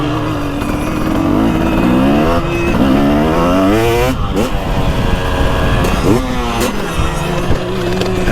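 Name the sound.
2023 TX300 Heritage Edition two-stroke dirt bike riding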